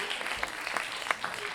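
Faint, diffuse applause from an audience at the Nuit du Slam poetry tournament in Lyon, a soft wash of many hands with a few sharper claps standing out, heard from some distance.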